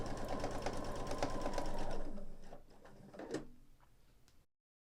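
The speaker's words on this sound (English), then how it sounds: "I'm just going to quilt this entire piece down with some 1/4 inch quilting lines." Sewing machine stitching 1/4 inch quilting lines on a quilt-as-you-go piece, a steady rapid whirring run for about two seconds, then slowing into a few scattered mechanical clicks before stopping.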